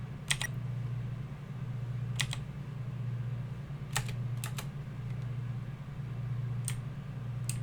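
Computer keyboard keys, the WASD cluster, tapped in short scattered clicks and quick doubled presses while playing Undertale, over a steady low fan-like hum with no talking.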